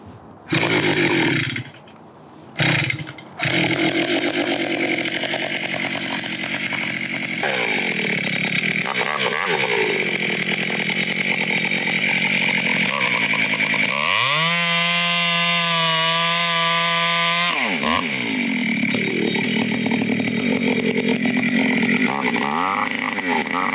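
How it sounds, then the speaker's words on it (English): Stihl chainsaw running close and loud, a sputtering start and then a steady buzzing engine that revs up high for a few seconds at full throttle before dropping back to idle, with no talk. "That saw is super loud"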